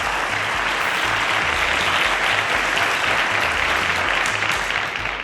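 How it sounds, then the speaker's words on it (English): Loud, dense applause from a quiz show studio audience on Cowbellpedia for contestant Favour, a steady roar of many hands sustained throughout. "A round of applause to Favour."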